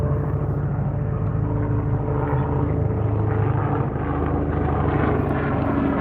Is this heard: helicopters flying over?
yes